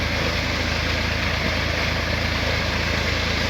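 A tractor engine, a 240 model, drives a tubewell water pump and runs with a steady, loud, unbroken drone for the whole stretch, near and without talk.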